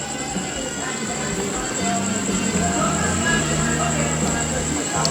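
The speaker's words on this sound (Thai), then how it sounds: "อันนี้เสียงกระหึมครับรอบสถานีรถไฟนะครับ" A low, steady train rumble fills the air at Chiang Rak Noi station in Thailand in the early evening, with a thin high whine above it, and voices murmur faintly underneath.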